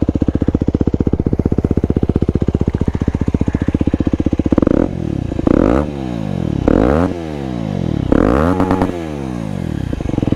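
An Aprilia SX 125 motorcycle idles with a fast, loud single-cylinder putter, then its engine is revved hard in repeated sharp blips that rise and fall close by, with no talking.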